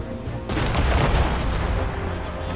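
A heavy ship's cannon booms in a naval battle in Assassin's Creed Rogue, one deep blast rolling into a long rumbling tail.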